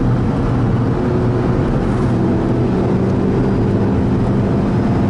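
A Volkswagen Polo GTI engine pulls hard on the Nurburgring Nordschleife, a loud, steady in-car drone with road and wind roar throughout and no break in the sound.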